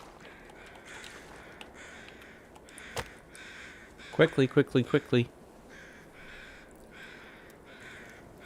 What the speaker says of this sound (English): Ah, the musical sound of bird song.